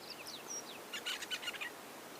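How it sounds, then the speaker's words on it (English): A red-billed buffalo weaver calls with a few thin whistles followed by a quick burst of chirps, faint and somewhat distant. "Let's see if we can get a good shot of the red-billed buffalo weaver."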